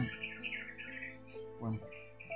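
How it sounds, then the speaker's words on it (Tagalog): Many birds squawk and call at once in a busy, overlapping chorus, harsh and raucous, fairly faint and continuous. "Napakadaming ibon mga tol."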